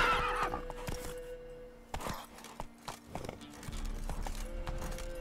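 Roach, the horse in the video game The Witcher 3, neighs near the start, then hooves clop and thud in scattered steps, with a steady low tone running beneath.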